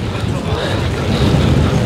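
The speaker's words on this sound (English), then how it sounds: "It's a bit windy." Gusty wind buffets a microphone outdoors in wet Amsterdam in a continuous low rumble, swelling stronger toward the end.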